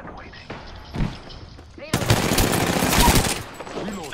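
Rapid automatic gunfire and single shots ring out during a ranked video game shootout, with bursts growing louder and denser in the second half while a player talks over the action.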